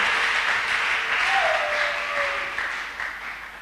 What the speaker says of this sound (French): Acclamons très très très fort.